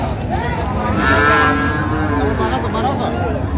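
A single long moo from a Sahiwal bull calf at the Raniganj cattle market sounds close by over background chatter and crowd hubbub.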